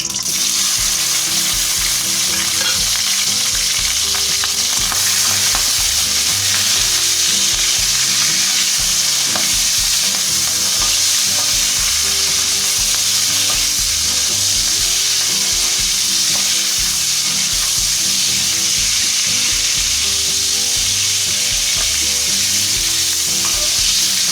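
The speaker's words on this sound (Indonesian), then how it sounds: "Kita goreng udangnya dulu." Shrimp frying and being stirred in a pan for a Minang-style water spinach and sweet corn stir-fry, a steady dense sizzle with stirring scrapes running continuously throughout, close and loud.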